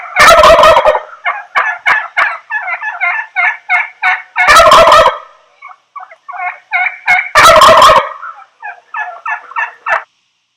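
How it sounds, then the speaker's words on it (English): Wild turkey gobbling in repeated rapid bursts, three loud rattling gobbles separated by quieter clucking and calling notes, close and clear with no talk. "so that is the wild turkey."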